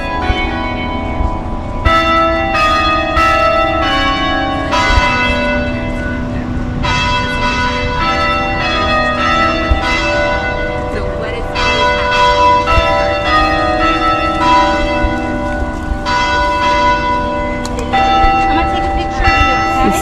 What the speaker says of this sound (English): That's St. John's Church that you hear.